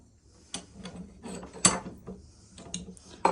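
A rusty fixed-blade hunting knife is fitted into a bench vise with a few sharp metallic clicks and clunks, separated by quieter scraping and handling sounds, close by in a quiet workshop.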